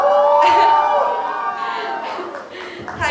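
A college day crowd cheers and whoops loudly and briefly, the cheering fading into laughter and scattered chatter.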